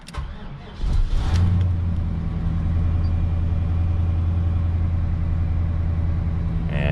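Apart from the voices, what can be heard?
1979 Chevy Caprice with 4th gen LT1 engine starting and idling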